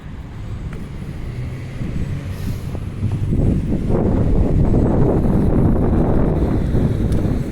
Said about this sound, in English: A little breezy right here, but not too bad.